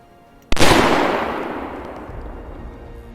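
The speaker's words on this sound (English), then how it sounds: "I take a deep breath, relax, align the reticle, and slowly squeeze the trigger" A single loud rifle shot from a 180 grain load cracks out at night during wild hog control, a sharp blast followed by a long echoing decay that fades over about two and a half seconds.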